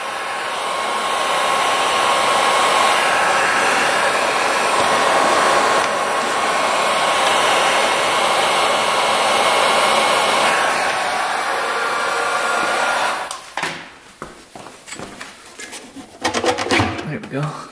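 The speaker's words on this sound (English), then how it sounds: "Have to get the heat gun out. Heat up that line a little bit." Heat gun warming a brittle old fuel line on a barn-found 1977 dirt bike blows a steady loud airy roar for about thirteen seconds, then cuts off, followed by clattering handling noises and a voice speaking.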